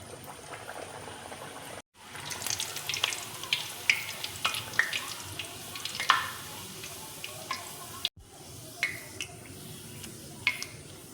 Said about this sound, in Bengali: এবার আমি কচুরিগুলো এক এক করে তেলের মধ্যে ভেজে নেব